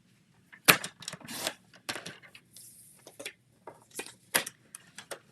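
Paper is cut for a card-making class: a run of irregular, crisp clicks and snips, with a brief sliding swish partway through, close and fairly quiet.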